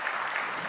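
A crowd at a Hindi-language devotional recital claps in a brief, dense burst of applause, steady and moderately loud with no voices over it.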